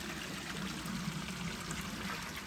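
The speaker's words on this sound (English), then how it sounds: "That water's so clear. It's like coming from the ground." Clear spring-fed stream water trickling and pouring steadily along a rocky Appalachian Trail path, a close, constant bright rush with no talk.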